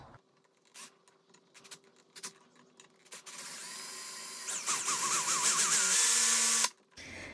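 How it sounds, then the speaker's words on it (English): A drill bit bores into a rivet on a Victorinox pocket knife: scattered clicks and scrapes at first, then a loud, high-pitched whining grind that wavers for several seconds before cutting off. "Been trying to put pressure laterally in this direction to try to compel the drill bit not to keep squirreling towards the edge"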